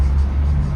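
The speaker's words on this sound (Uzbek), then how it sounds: "Ko'prikda mashinalar shunaqa to'lib ketgan" Heavy traffic crowded on a bridge on New Year's Eve near Reunion Tower, a low steady rumble of many car engines, close and continuous without clear passes.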